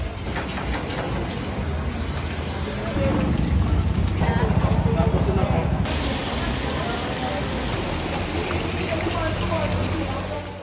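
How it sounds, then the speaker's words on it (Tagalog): Steady rain falls over a street food stall selling grilled seafood platters, a dense broadband hiss of spray and splashing that swells louder midway, with voices talking underneath throughout. "Sakto pa nga inabutan tayo ng ulan"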